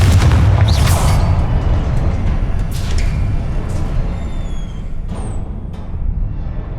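A Confringo fire spell explodes in Hogwarts Legacy, a loud booming blast with a deep rumbling low end that rolls on steadily for several seconds, with a few sharp crackles and whooshes over it and no voices.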